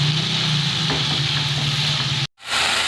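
Chopped fenugreek leaves (methi) hitting a hot pan for an egg scramble, a steady loud sizzle and hiss with a brief break near the end before the frying noise resumes.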